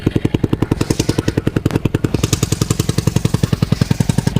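An engine with a dying-out problem idling, a loud close rhythmic putter with rapid, even firing pulses running steadily throughout, no talking.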